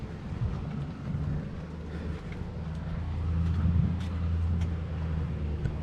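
Cars go by on a nearby road as a low, fairly faint rumble that swells and eases with each passing vehicle, and no one speaks.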